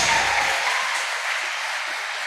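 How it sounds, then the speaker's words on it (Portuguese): A church congregation at a celebration service applauding, a dense, steady wash of many hands clapping together, fairly loud and continuous without speech. "Vamos aplaudir."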